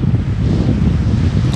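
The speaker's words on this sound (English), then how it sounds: "Man, it's breezy. It's very breezy today." Strong wind buffets the microphone outdoors on a canoe trip, a loud continuous low rumble with no speech.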